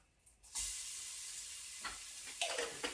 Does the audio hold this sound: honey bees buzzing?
no